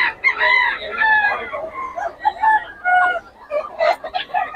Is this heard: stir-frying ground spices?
no